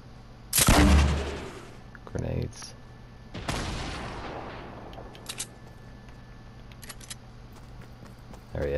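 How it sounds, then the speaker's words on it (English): A grenade explodes in Fortnite with a loud, sudden blast that rolls off. A second rumbling burst and a few fainter sharp pops follow against quiet game ambience. "Grenade."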